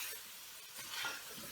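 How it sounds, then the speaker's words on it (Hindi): Tomatoes being stirred and fried in a pot for chicken pulao: a steady soft sizzle with scraping stir strokes, close and fairly quiet, no talk. "टमाटरों को नरम होने तक भूनते हैं"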